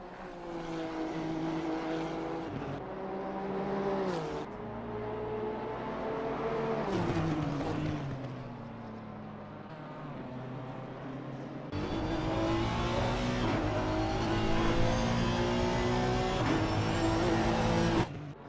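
A racing car at Oulton Park running through the final sector of a lap, its engine note steadily rising and falling through the gears, briefly lifting off, then pulling hard again in a sustained loud drone, without commentary.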